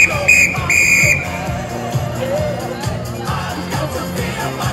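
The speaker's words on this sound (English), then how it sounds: "Where's my whistle?" Whistle blasts sound during a group exercise class: a shrill, loud whistle in short bursts at the start, followed by crowd noise and chatter.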